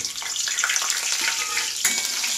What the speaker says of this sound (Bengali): এবারে সেই মাছ ভাজা তেলেই আমি এই শুটিটাকে ভাজবো